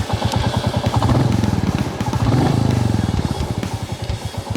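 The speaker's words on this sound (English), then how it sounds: "let me show you how the new Classic sounds like." A 2021 Royal Enfield Classic 350 single-cylinder motorcycle engine running, a steady, close, loud thump-thump beat that swells slightly as if revved, heard alone without speech.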